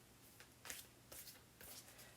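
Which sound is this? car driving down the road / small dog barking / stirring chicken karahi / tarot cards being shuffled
tarot cards being shuffled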